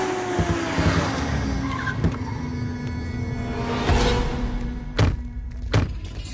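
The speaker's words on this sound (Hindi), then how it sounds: "गाड़ी रोक रहे।" A car braking to a stop: a loud, close engine and tyre rumble that fades, broken by a few heavy thunks near the end, in a dubbed South Indian film scene.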